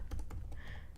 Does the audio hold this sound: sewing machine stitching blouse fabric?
no